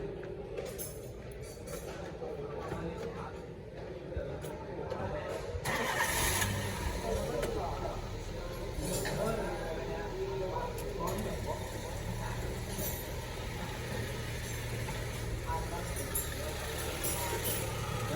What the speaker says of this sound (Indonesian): Selanjutnya hidupkan mesin dan AC.